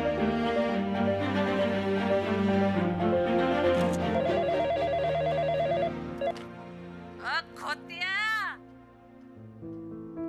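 A telephone rings with a bright repeating electronic tone under music and talk, then a few rising whistle-like chirps follow.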